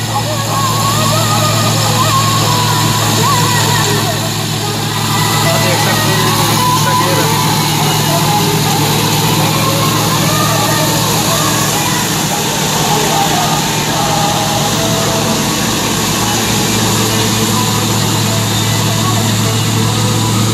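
A Massey Ferguson 385 tractor runs in second gear hauling a wheat chopper machine, its engine a loud, steady low rumble throughout, with someone talking over it.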